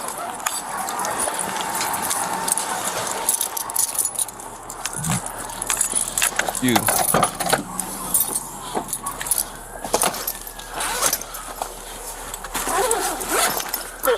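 Keys jangle repeatedly in sharp, bright bursts of metallic clinking, close by, against background noise, with a voice speaking briefly.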